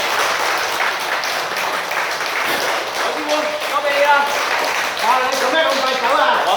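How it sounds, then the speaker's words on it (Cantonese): Audience applause at a vegetarian cooking demonstration in a Shunde vegetarian restaurant, a steady, dense wash of clapping lasting several seconds, with voices rising through it toward the end. "我哋掌聲鼓勵我個好朋友"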